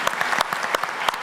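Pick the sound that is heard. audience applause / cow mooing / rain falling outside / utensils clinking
audience applause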